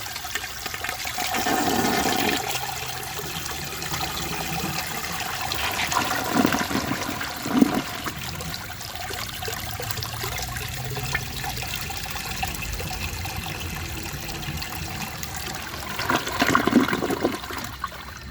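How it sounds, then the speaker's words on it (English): A Glacier Bay all-in-one toilet flushes with a loud, close rush of water that swirls and drains, then settles into trickling refill and dribbling with a second surge of flow near the end. "I'm going to give that another flush."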